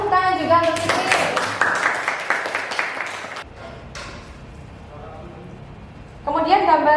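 A class of students claps for a classmate in an Indonesian lesson: a quick run of loud, close hand claps that thins out partway through, with a teacher and children talking over and after it.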